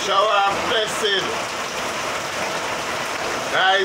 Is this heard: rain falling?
yes